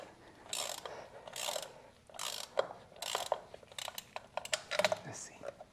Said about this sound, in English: I'm going to loosen the housing, see if I can get just enough slack behind that bracket, but still be able to use these bolts.